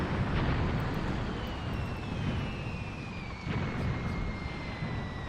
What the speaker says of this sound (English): they are firing artillery right back at us